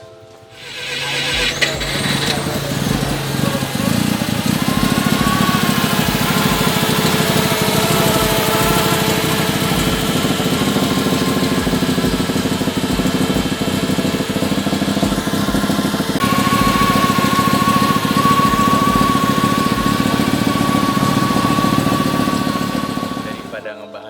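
A fuel-injected turbo rotary engine car idles steadily with a rough, throbbing rumble throughout, close by, with faint voices and background noise mixed in.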